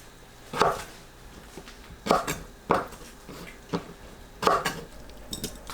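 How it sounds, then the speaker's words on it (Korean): A knife chops pickled radish into thin strips on a board, with five or six sharp separate knocks at an uneven pace over a quiet background. "3등분하고 채 썰어줍니다"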